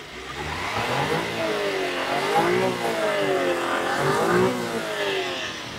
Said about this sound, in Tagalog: So, goods yung anda ng makina natin.